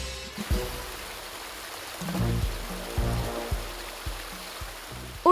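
A cartoon gushing-water effect: a steady rushing wash of water runs under soft music, broken by a series of dull thumps, and a sharp burst closes it.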